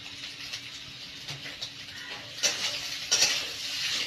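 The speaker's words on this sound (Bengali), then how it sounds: "একবারে আমি সয়াবিনটাকেও ভেজে নেব।" Soybean chunks fry with potatoes in a pan, making a soft, steady sizzle broken by a few louder scrapes and clinks of stirring, with no one talking.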